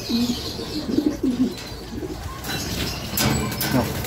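Several pigeons, including blue bars, cooing close by in low, repeated throaty calls, with someone talking at times and light background noise.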